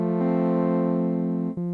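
A sustained synth pad chord with a metallic, ringing resonance, holding steady before a brief shift near the end.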